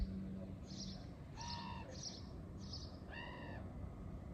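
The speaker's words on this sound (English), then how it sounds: "There are some really annoying crows out today." Crows call outdoors in a short series of harsh, nasal caws, four quick ones followed by a longer call, faint and distant over a steady low rumble of background noise, with no talking.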